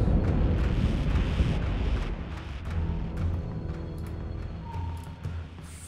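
Weapons fire and explosions in the space combat game Battlestar Galactica Deadlock: a heavy rumbling blast that slowly decays, followed by lighter repeated impacts and a steady low hum.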